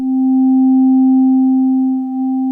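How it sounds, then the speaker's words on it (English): A Roland System-8 synthesizer oscillator set to a pure sine wave holds one steady, loud tone for about two and a half seconds, with a faint overtone above it and a slight dip near the end. "You can go to a sine wave."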